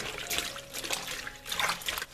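Weaver's cloth is pushed into a basin of warm water with dish soap added, making soft sloshing and trickling splashes in a few quiet bursts.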